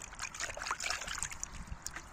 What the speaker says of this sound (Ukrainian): давайте оцю візьмемо цибулинку, відеречко з водою. Так, промиємо.